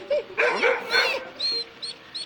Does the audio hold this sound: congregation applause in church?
no